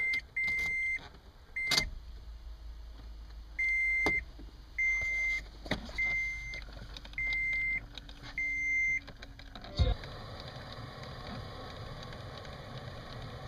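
A Toyota FJ Cruiser dash heater fan unit makes short mechanical whirring bursts about once a second inside the quiet cabin. From about ten seconds a steady rushing fan noise takes over.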